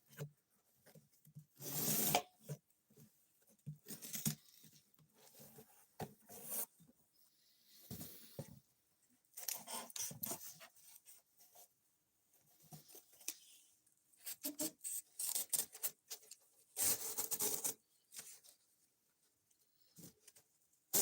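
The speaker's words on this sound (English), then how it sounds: "we may just go ahead and sharpen it and get it off this factory edge" Blade strokes rasp against a sharpening stone to remove a new knife's factory edge, coming in repeated bursts of scraping rubs with short pauses between passes, close and fairly quiet.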